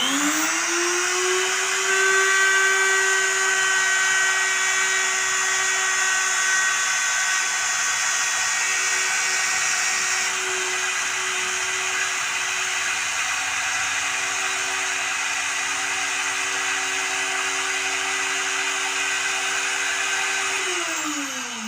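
An AST electric wood profile trimmer spins up to a loud, constant high-pitched whine that holds steady for around twenty seconds before the motor coasts down at the end.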